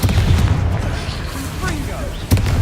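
Confringo fire-blast spell in Hogwarts Legacy, loud booming bursts with rumbling impacts, a strong blast at the start and another sharp hit near the end, mixed with game sound effects and voices.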